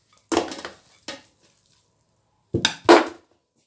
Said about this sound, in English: I'm going to put them direct inside the pot